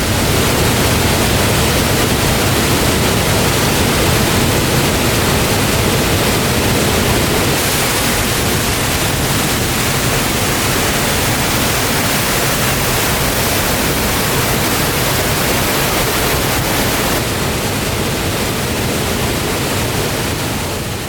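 Polluru waterfall, swollen with monsoon floodwater, roars as a loud, unbroken wall of broadband rushing noise. The roar stays nearly constant for about twenty seconds, with no voices.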